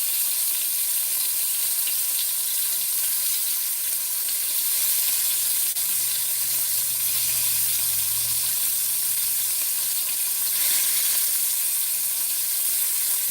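Beef browning in a pan for stew gives a loud, steady hissing sizzle that runs unbroken throughout, with a faint low rumble partway through and no talking.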